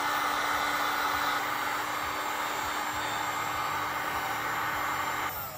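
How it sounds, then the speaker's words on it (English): A heat gun blows a steady, loud airflow roar while shrinking heat-shrink tubing over winch wires on a Polaris Ranger XP 1000, running continuously with no talk and cutting off at the end. "Pull these wires up here to where I can get a heat gun on them. We'll just go ahead and heat shrink them up."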